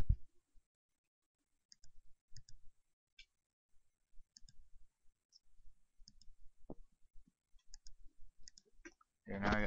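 Computer mouse clicks in Flash sprite editing, sparse single and paired clicks scattered through near silence, with a brief voice burst at the very end.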